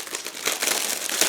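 A plastic bag holding the large sprues of a 1/72 scale HEMTT truck model kit crinkles steadily as it is handled, a close, continuous papery crackle with no talking.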